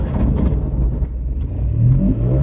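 A Piaggio Ape 50 three-wheeler pulls away, its small engine revving up with a buzzing, rattling drone that stays loud and close throughout, climbing slightly in pitch toward the end.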